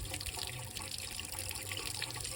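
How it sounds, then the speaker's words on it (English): Water rushes and gurgles through the hull and lines of a 1988 Sea-Doo SP 580 jet ski in a continuous, fairly quiet splashing flow with no voices. "Water is running through it."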